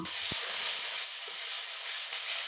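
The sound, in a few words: tomato ginger chili paste added to frying onions and garlic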